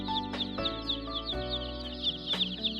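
Day-old chicks in a brooding shed peep in a dense, continuous chorus of high chirps, close and steady, with a few louder cheeps standing out above the flock.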